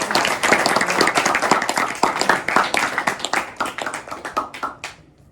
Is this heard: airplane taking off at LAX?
no